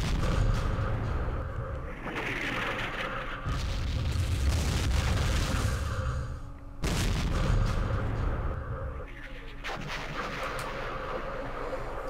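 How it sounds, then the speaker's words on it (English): Incoming artillery barrage in the wargame Campaign Series Vietnam at the Battle of Ia Drang, heavy booming blasts with deep rumbling tails, one big impact near the middle, loud and sustained, with a faint voice underneath. "Artillery coming in."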